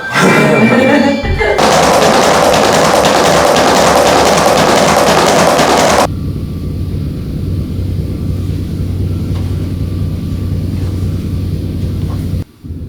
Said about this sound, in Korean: 지금 들으시는 게 약간 경량 충격음을 발생하는 장비가